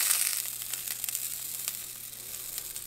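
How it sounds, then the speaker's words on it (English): Asparagus sizzles and burns in a hot skillet, a continuous close crackling hiss with small pops scattered through it. "I think I'm burning my asparagus."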